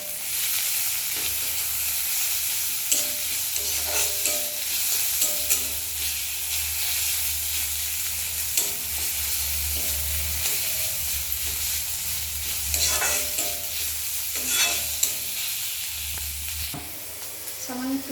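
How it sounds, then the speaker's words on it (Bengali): Ginger paste and tomato hitting hot oil in a frying pan for a Bengali mustard bhetki fish dish, giving a continuous close sizzle with bursts of sputtering and occasional stirring scrapes. "এবারে আদা বাটাটা দিয়ে দিচ্ছি আর সঙ্গে টমেটোটাও দিয়ে দেবো।"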